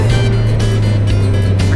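A Kawasaki Ninja 1000 motorcycle climbs uphill under steady throttle while carrying a heavy load, its engine giving a loud, continuous low drone with wind rush.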